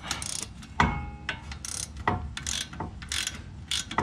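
A ratchet on a 2007-2014 Chevy Silverado lower ball joint cranks in short bursts of rapid metallic clicks to break loose an 18 mm nut, with a sharp knock as it frees, close and clear with no talking.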